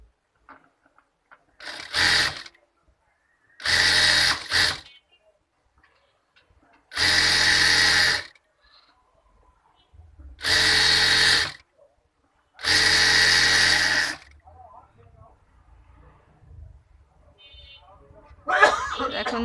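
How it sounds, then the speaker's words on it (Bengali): A sewing machine runs in five separate bursts, stitching a thin hem on gathered fabric for a girl's half pants, each run lasting about a second or two with quiet pauses between and some faint background sounds. "তো এখন আমি চিকন করে হেম করে নিব।"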